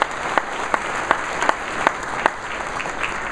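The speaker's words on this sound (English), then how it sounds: "so let's give them a round of applause as well." Audience applause for sponsors at an economic forecast event: a continuous wash of clapping with a few sharper individual claps popping out, steady and moderately loud.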